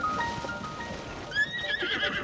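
Horse neighing and hooves in Zelda: Tears of the Kingdom, a clear whinny rising over soft clip-clop footfalls against a constant game background, with no talking.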